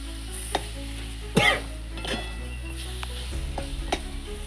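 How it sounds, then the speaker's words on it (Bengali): Banana stem paste is stirred with raw mustard oil in a pan, with a few scraping knocks and a brief louder clatter of the utensil over a faint, quiet sizzle. "এর মধ্যে এবার একটু কাঁচা তেল দিয়ে এটা দিয়ে একটু নেড়ে চেড়ে"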